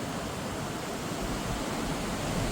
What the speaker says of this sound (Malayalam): തിരമാലകൾ ആഞ്ഞടിക്കുന്നു.